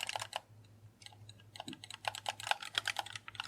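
The bumper buttons on a wired Xbox One controller are clicked over and over, giving close, crisp plastic clicks in quick irregular bursts over a faint steady hum.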